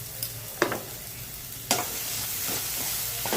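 Ground spice paste is sautéed and stirred in a pan for a methi (fenugreek) bhaji, giving a soft, steady sizzle with a few sharp scraping clicks from the spoon, close and fairly quiet, with no voices.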